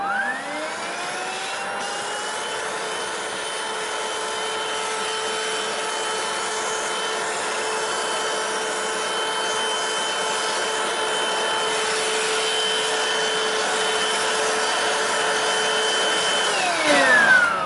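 A Hoover CRUISE+ cordless vacuum cleaner runs close by and loud, holding a steady high motor whine that spins up at the start and winds down near the end, with no talking.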